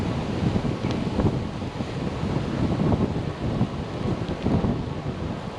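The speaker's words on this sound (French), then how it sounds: "Toujours du vent." Steady wind buffets the microphone while riding a bicycle along a canal, a continuous low rumbling roar with gusty swells and no voices.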